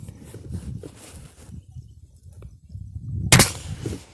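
A single sharp crack from an air rifle fired at a snakehead fish rings out late, standing out against steady outdoor background noise and rustling.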